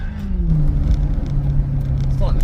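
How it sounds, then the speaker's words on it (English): A Maserati GranTurismo S fitted with sport cats and silencers rumbles with a low, raspy exhaust drone, close and loud, under a person talking. "It's starting to pop more as well, which is good."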